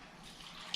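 Vinegar pours into a large pot of green tomato mincemeat, a short, faint liquid trickle and splash.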